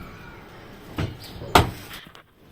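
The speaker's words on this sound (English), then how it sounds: "now let's close the drawer and the dishwasher." A home dishwasher door is pushed shut in a kitchen, a soft thump followed by a firmer, louder clunk as it latches, then quiet.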